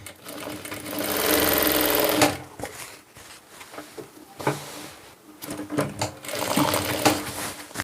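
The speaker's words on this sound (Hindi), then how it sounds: "तो हमें ये यहाँ पर सिलाई लगानी है 1/2 इंच की" Sewing machine stitching a half-inch seam on gents' Aligarh-style pajama fabric, running in a loud, steady burst for about two seconds, then in shorter stop-start runs with brief pauses between them.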